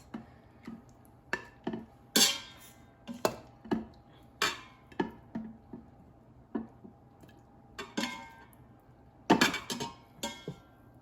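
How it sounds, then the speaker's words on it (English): Cooked oxtails are lifted out of an Instant Pot, with sharp metallic clinks and knocks of utensils against the pot and dishes coming in irregular bursts over a quiet kitchen background. "Now let me take the oxtails out of the Instant Pot."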